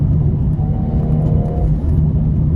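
A car rolls along a road from inside the cabin, a steady, loud low rumble of tyres and engine with a faint whine running through it and no break.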